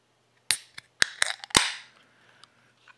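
A low-calorie beer being opened, a sharp close pop among several quick clicks and cracks of the cap or tab, followed by a short fizzing hiss that fades out.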